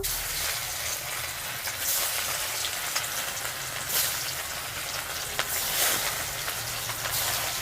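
Bhola fish fry in hot oil, a steady close crackling sizzle with occasional louder pops and spatters running throughout.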